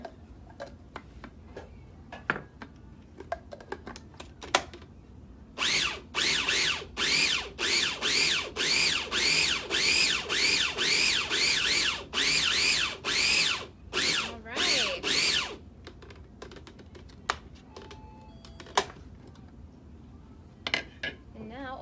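Cuisinart 4-cup food processor grinding tomatoes and onions, a loud motor whirring in about a dozen rapid pulses over roughly ten seconds, with quiet clicks and handling noises before and after.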